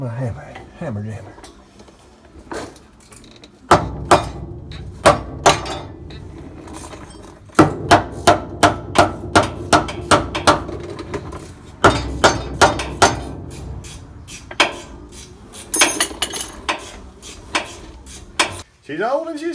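A hammer clangs repeatedly on metal while the tired 318 V8 is pulled from a 1988 Dodge D100, sharp strikes coming in irregular bursts amid clinks of tools, with a person talking at times.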